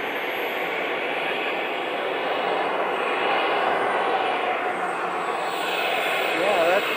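A radio-controlled model de Havilland Comet jet lands at an outdoor air show, passing right to left with a steady, loud turbine roar that holds evenly throughout, no voices cutting through.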